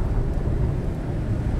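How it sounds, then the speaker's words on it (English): Thunder during a snowstorm in the video game Icarus, a short deep low rumble heard from inside a shelter, steady and moderately loud with no speech. "That was a big thunder."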